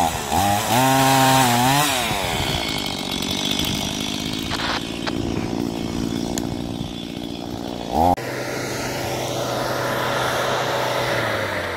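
A gasoline chainsaw at a riverbank, revving up and down loudly near the microphone, then settling into a steady idle drone, with a brief louder burst before it keeps running.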